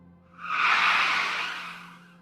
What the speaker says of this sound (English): I heard a squeal of tires.